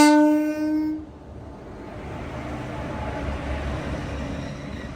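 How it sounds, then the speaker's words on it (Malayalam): On a foggy railway line, a passenger train sounds a loud, sustained horn blast for about a second, then rumbles past with a broad, rising roar of wheels and carriages. "നല്ല രസാ വണ്ടി വരുന്നത് കാണാൻ വേണ്ടിയിട്ട്."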